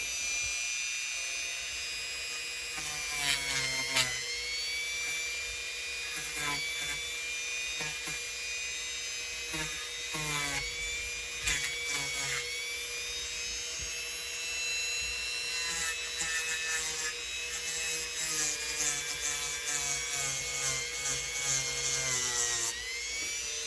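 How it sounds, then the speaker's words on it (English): A Bible cover liner is scuffed over and over, the rhythmic abrasive rubbing coming in repeated strokes, close and steady over a continuous high-pitched machine whine, with no talking. "So I'm scuffing the liner a bit here."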